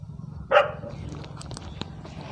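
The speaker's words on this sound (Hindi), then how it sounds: "और ये है इनका कुत्ता" A dog at a rural home beside a vegetable garden gives one sharp, fairly close bark, then falls quiet; only faint background noise and a few light knocks follow.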